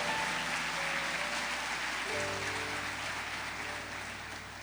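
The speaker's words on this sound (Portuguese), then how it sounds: "Dê uma salva de palmas a ele bem forte" Church congregation at a Sunday evening service applauds throughout, a continuous wash of clapping under a sustained musical drone, gradually easing toward the end.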